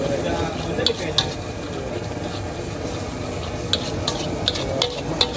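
Fried noodles with egg sizzle steadily in a pan while a spatula stirs and scrapes, with occasional sharp metallic clinks of utensil against pan at a street food stall; no talk is heard.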